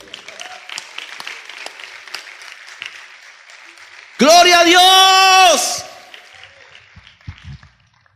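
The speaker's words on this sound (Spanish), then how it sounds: "Denle un aplauso al Señor" A church congregation applauds the Lord during a sermon, a faint patter of clapping that runs underneath before a man's loud, sustained shout of praise takes over, then fades back to low crowd noise.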